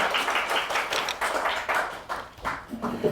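A room of people clapping, a fairly loud patter of many hands that fades toward the end.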